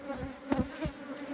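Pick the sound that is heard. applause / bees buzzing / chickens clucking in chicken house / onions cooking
bees buzzing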